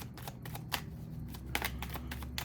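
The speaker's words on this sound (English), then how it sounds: "I always shuffle and let the cards pop out." A deck of tarot cards is shuffled by hand in a run of quick papery riffles and flutters, close and clear, with no talking.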